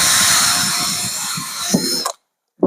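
A drill with a steel bit whines at higher speed while boring a hole, a close, high-pitched buzz lasting about two seconds before cutting off, then a brief clunk.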